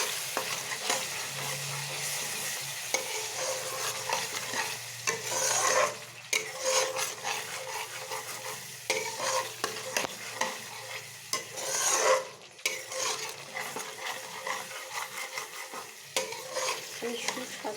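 Aar fish mixture is stirred in a pan, a steady close scraping and soft sizzle with louder spoon strokes around six and twelve seconds, no voices.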